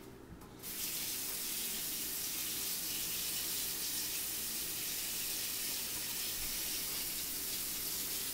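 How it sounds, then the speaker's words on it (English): Whisk rinsed under a running kitchen tap, a steady close hiss of flowing water that starts abruptly and continues evenly to the end. "now I'm going to rinse the whisk."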